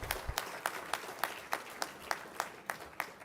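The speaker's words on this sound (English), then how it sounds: "Let's give a big round of applause to all our PG Diploma graduates." Sparse, regular claps at a university degree ceremony for PG Diploma graduates, roughly a dozen evenly spaced hits close by, with faint room noise between them.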